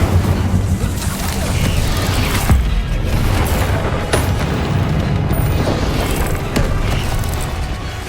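Spells explode in Hogwarts Legacy, a loud, constant roar of heavy booms and blasts that keeps on without a gap, with a voice calling out over the din.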